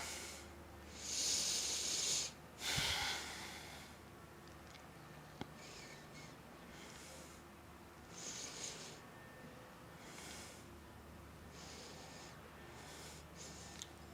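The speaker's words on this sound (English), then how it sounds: "Inhale and exhale." Slow, deep breaths drawn in and let out during a yoga stretch for runners, soft airy swells of breath rising and falling at a relaxed pace in a quiet room, with no talking.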